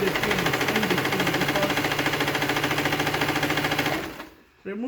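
A sewing machine stitches leftover fabric into a twisted, knotted headband, running with a steady, fast mechanical whir and rhythmic needle clatter close by before stopping near the end.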